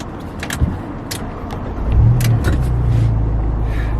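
A few small metallic clicks, then a Fiat 695 Maserati Edizione convertible's engine turns over and settles into a deep, steady exhaust rumble close by.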